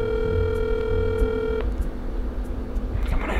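An outgoing phone call tone sounds as a steady electronic hum that cuts off partway through, followed by faint clicks and room noise.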